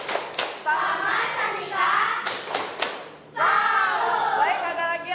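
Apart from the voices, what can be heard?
class clapping hands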